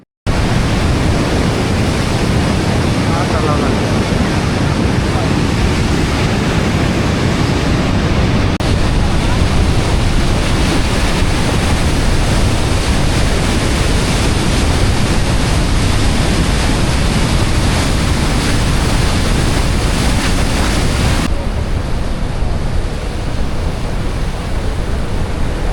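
Niagara Falls thunders as a huge volume of rushing water, a loud, unbroken roar mixed with wind buffeting across the whole stretch.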